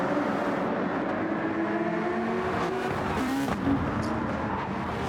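Race cars on Trial Mountain in Gran Turismo 7 run in a steady, loud engine drone with shifting pitch as several cars pass, a brief tyre squeal near the middle.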